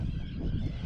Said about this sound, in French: c'est une île nidification hein, pour que les oiseaux ils pondent là